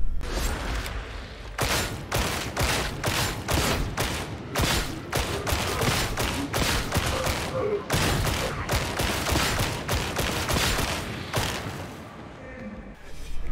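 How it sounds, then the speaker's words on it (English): Rapid, sustained lasgun fire from Warhammer 40K Darktide, a dense stream of loud, closely spaced energy shots with only brief gaps, close and continuous over the game's background. "Las guns sound good."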